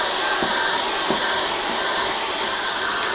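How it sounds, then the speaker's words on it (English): A hair dryer blows steadily on acrylic paint, a loud continuous airy rush with faint brief knocks, holding even throughout. "let's turn the air dryer on."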